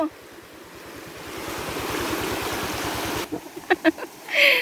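Rushing floodwater at a water park near a waterfall, heard as a loud steady roar of churning water with a rhythmic pulsing underneath. A few sharp knocks and a brief splash follow near the end.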